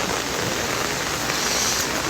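Steady, dense rainfall pours without a break, a loud even hiss of drops striking surfaces close by, with no voices over it.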